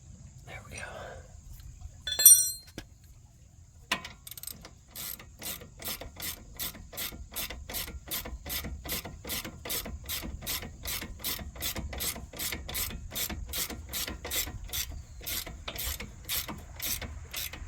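A hand ratchet clicks in a fast, even series, close and crisp, while tightening a stabilizer bar link on a 2018 Honda Civic Sport, after a few faint rustles and a short metallic clink.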